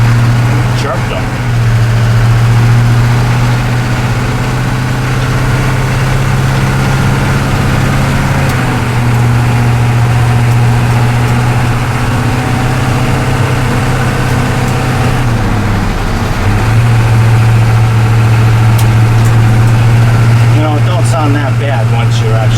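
A GM 6.2 diesel truck, its exhaust full of holes, drones steadily while rolling down the road. The deep engine rumble stays loud and continuous throughout, with voices talking over it.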